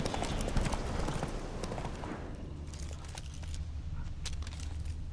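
Horse hooves clip-clopping at a quick riding pace in the video game The Witcher 3, a dense continuous patter that is louder at first and then settles into a steadier, slightly softer rhythm.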